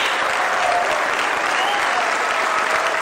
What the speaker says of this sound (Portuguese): Volodymyr Zelensky foi aplaudido de pé,